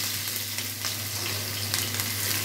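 Onions frying in a pan for Bengali chicken kosha, a steady close sizzle with light crackle and occasional stirring scrapes, no voices over it.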